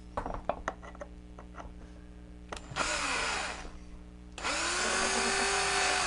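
A power drill drives screws into a wooden glue gun holder in a workshop, with two sustained whirring bursts after a few scattered knocks and clicks, loud and close with no talking.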